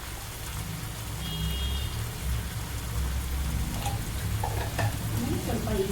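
Turmeric powder going into sizzling oil for a spring onion stir-fry, a steady crackling fry with stirring and a few louder pops and spoon clinks near the end.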